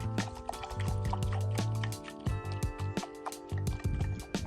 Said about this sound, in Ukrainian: Ось так. Наливаємо водички. Ретельно розмішуємо.